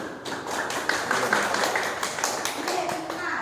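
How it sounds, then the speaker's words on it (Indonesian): A classroom group of students claps together during a lesson, a dense, steady patter of hands lasting a few seconds, with young voices mixed in underneath. "Boleh tepuk tangan dulu teman-teman."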